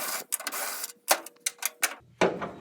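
A 1/2-inch socket ratchet works bolts loose from a Chevy Silverado tailgate, a close run of quick clicking bursts with short pauses between them and no talking.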